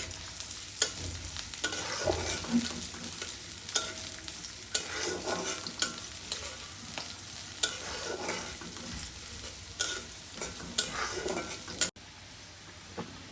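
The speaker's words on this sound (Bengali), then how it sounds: "তেলটা গরম না হতে আমি পেঁয়াজ দিচ্ছি" Onions sizzle in oil that is still warming in a pan for a village-style Bengali tengra fish curry. The frying hiss is steady and close, broken by repeated stirring scrapes, and it goes on without speech.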